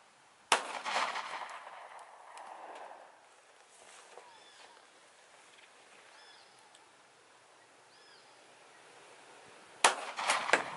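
Two loud, sharp gunshots from 9mm, .40 S&W or .357 Magnum handguns fired at a concrete block outdoors, one near the start and another near the end, separated by a quiet stretch with faint bird chirps.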